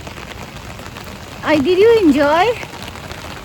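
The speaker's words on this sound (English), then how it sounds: "No, I think it's a light rain" Light rain falls on a walk in Canada, a steady soft patter running beneath a child's brief spoken question.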